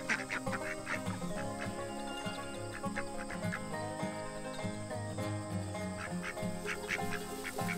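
Khaki Campbell ducks quack in repeated, overlapping bursts close by, with a steady insect or cricket chirr running underneath.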